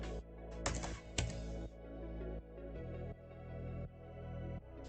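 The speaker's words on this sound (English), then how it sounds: "Alt, enter on your keyboard, and press enter again" Alt and Enter keys are pressed on a computer keyboard, a few distinct close clicks and taps over a low steady hum, with no one speaking.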